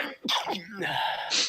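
One close sneeze with an inhaled build-up and a sharp burst, then a breathy trailing exhale.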